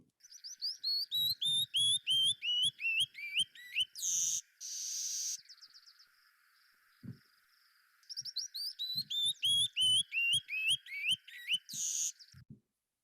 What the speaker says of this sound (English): Male canyon wrens always sing those songs